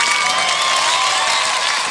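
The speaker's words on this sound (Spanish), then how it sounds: "Un fuerte aplauso a la gente de la Romana." A crowd at a live music show in 2013 breaks into loud, dense applause and cheering. The clapping stays steady and continuous from start to end.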